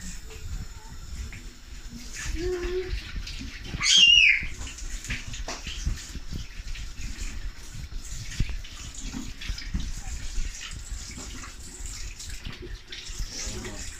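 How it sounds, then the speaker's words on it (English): Dirty beetroot being washed under running tap water, a steady close trickle and splash with brief handling noises and a faint squeak. "It's a bit dirty, so you have to wash it off."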